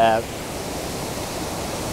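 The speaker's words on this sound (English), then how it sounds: "it's time now to move to the main waterfall itself" Aasleagh Falls waterfall pouring steadily, a dense broadband rush close by that carries on unbroken, with a brief voice at the very start.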